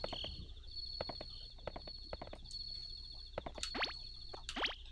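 Game horse hooves clip-clopping in Harvest Moon 64, a run of quick, evenly spaced hoof clops over a steady background tone, with a couple of sharper sweeping sounds near the end.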